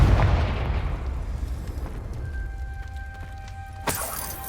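A Confringo blasting spell in the Hogwarts video game erupts in a heavy, booming explosion that slowly decays into a rumbling tail, followed by a few faint tones and a sharp crack near the end.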